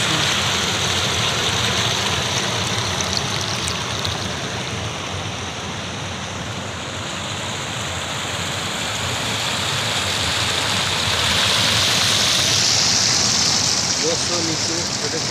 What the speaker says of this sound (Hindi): पानी ज़्यादा आ रहा है